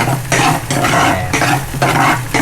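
Garlic and onion sautéing in a pan, a steady loud sizzle broken by periodic stirring scrapes, close up with no talking.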